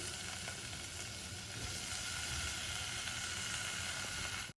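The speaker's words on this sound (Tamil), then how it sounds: "இப்போ இந்த பிரண்டை, பூண்டு, கருவேப்பிலை இதை அப்படியே எடுத்து போட்டுறோம்." Pirandai, garlic and curry leaves sizzling in hot oil, a continuous close hiss of frying that stays even for several seconds and then cuts off abruptly, with no talking.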